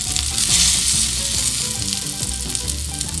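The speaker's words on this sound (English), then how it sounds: "I'm gonna go ahead and give it a flip." Tuna steak, freshly caught, sizzling steadily in a hot pan after being flipped, with a continuous loud frying hiss and a few soft stirring scrapes, close up and without talk.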